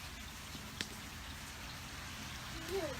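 Rain falling as a soft, constant patter of drops, faint and steady, with a sharp tick early on and a brief higher sound near the end.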